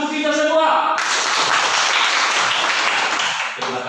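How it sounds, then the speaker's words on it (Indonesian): Children in a classroom clap their hands together in a dense burst of applause, preceded and followed by brief tonal sound, fairly loud and close. "anak-anak, tepuk tangan untuk kita semua"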